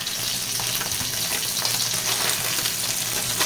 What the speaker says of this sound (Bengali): এই মাছটাও সুন্দরভাবে ভেজে ফেলেছি।